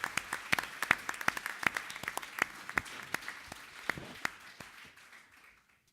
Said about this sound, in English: Another round of applause for these students for coming out.